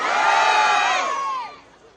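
A crowd at a JP Nadda political rally shouts a unison slogan response, a loud, sustained group cry with a few distinct voices rising above it, that drops off sharply near the end.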